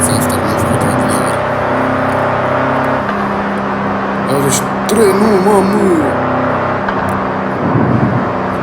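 Lamborghini Urus Performante with a 750 hp V8 engine driving, a steady car engine drone with rising revs partway through, heard from inside under a person's talk.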